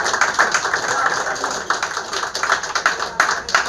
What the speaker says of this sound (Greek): Ένα χειροκρότημα τώρα για τον Γιανούλη.